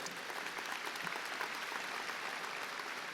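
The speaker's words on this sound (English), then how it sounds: "Another round of applause for your class president." Applause from an audience at a high school graduation ceremony, a dense, even wash of many hands clapping, somewhat distant and faint throughout.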